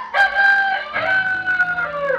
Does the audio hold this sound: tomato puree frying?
no